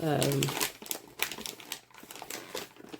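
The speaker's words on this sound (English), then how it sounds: "I'm just going to cut little strips of these off" Craft tape being handled and snipped into little strips for coffee-dyed ephemera embellishments, a string of close crinkles and sharp clicks.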